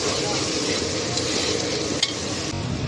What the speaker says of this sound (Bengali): মশলাটাকে তেলের মধ্যে কষছি, একটু ভালো করে কষে নেব